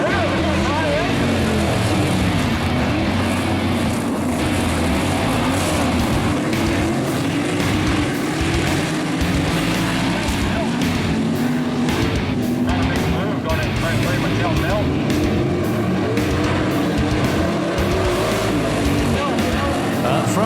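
Sprint cars race in a dirt track heat race, their engines a loud, continuous roar that swells and fades as they circle, with an announcer talking over the noise throughout.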